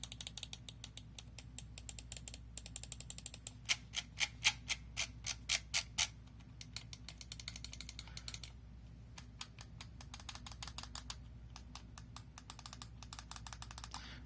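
An EC1-A FPS gaming mouse clicks repeatedly in quick, uneven bursts, its sharp dry ticks close and fairly quiet over a low steady background hum, with no talking.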